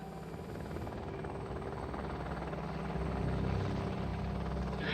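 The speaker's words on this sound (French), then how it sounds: "les militaires français ont lancé l'assaut en hélicoptère" French military helicopter during an assault in a hostage rescue, its rotor and engine throbbing loudly and steadily throughout, growing slightly stronger toward the end, with no voices.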